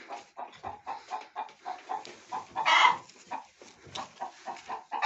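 Several chickens cluck up close in a coop in a busy, rhythmic stream of short calls, with one louder squawk midway.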